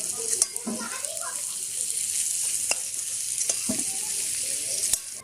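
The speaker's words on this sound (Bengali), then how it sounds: "আলুগুলো ভাজা হয়ে গেছে, আমি তুলে নিচ্ছি।" Potatoes frying in hot oil with a bright continuous sizzle, a few clinks and scrapes as they are lifted out of the pan, close and steady.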